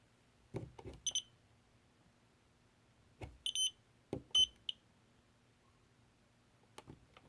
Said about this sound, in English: we will run this voltage tester just to be sure.